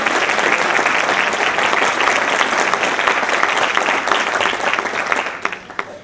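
Audience applause fills a conference hall at a congress, a dense, steady clapping from a full crowd that holds loud for about five seconds before thinning into a few scattered claps.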